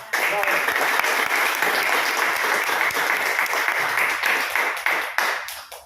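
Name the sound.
audience applause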